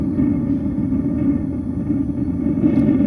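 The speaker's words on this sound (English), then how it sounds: "That is the sound of propane burning," A propane heater burning in a Cherokee Greywolf 20RDSE RV, a steady low roaring rumble heard from outside, constant and unbroken with no talk.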